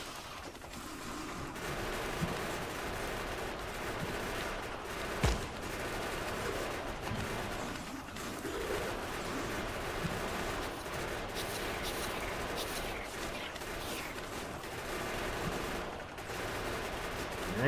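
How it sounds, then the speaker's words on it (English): Rapid gunfire rattles continuously as a vehicle blasts through large worms in Factorio on a Death World Extreme map, steady automatic bursts with a few sharper impacts, fairly faint and uninterrupted. "I like how I can gun my way through these big worms now."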